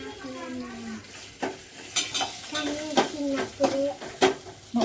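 Cashews frying in a pan until golden for kaju rice, with a soft sizzle under repeated stirring and scraping strokes against the pan, close, while a voice talks over the start.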